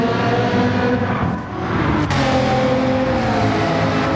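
Race cars roar past in Gran Turismo 7 during a multi-class race, including a green and black McLaren: steady loud engine drone with a sharp whoosh of a car passing mid-clip, continuous and close.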